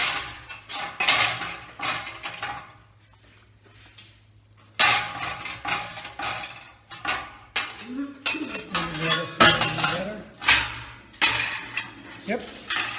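A metal pan clanks and clatters in a kitchen as it is set down and handled, with irregular clinks and knocks, a quiet pause, and a person talking between the sounds.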